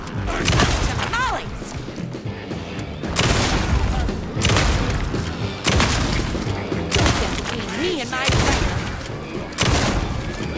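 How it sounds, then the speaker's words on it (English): Repeated heavy shotgun blasts in the Night Springs video game, several loud bursts spread irregularly across the span with booming impacts and crashing debris in a chaotic fight. "This shotgun sucks."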